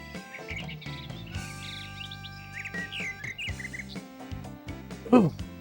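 Birds chirp repeatedly in a golf video game, with short bright tweets scattered over steady background game music and a louder sharp call near the end.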